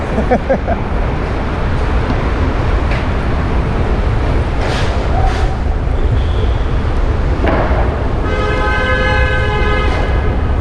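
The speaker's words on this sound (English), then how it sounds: "Yep, there you hear the traffic and all that." Busy New York City street traffic heard up close from a bicycle, a loud constant roar of engines and road noise broken by several car horn toots and a long sustained honk near the end.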